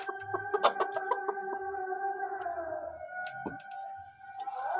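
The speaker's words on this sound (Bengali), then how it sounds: "ওই যে দেশি মুরগির বাচ্চা, দেশি মুরগির বাচ্চা না, বড় বড় দেশি আছে।" Full-grown desi chickens cluck and call in a village yard, a run of close, repeated short clucks with a few drawn-out tonal calls, one bird's voice sliding down midway, with no talking.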